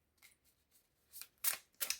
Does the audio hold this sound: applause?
no